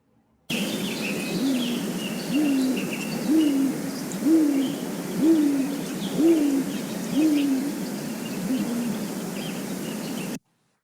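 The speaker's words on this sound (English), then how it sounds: "our next owl that we wanted to highlight is the great gray owl" A deep, soft great gray owl hoot repeated about eight times at an even, slow pace, each low call rising slightly, over a steady hiss of background noise.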